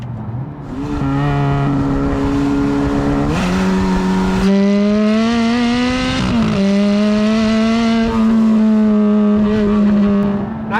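Ferrari engine, from either an F430 or a classic 308, revving hard while driving, with a loud, steady tone that climbs through the gears and drops sharply at each shift, close and continuous without talk.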